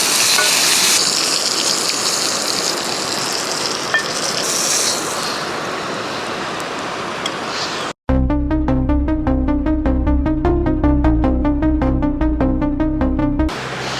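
Shrimp cakes crackle and hiss steadily as they fry and crust on a hot surface, a continuous sizzle for about eight seconds before music abruptly takes over.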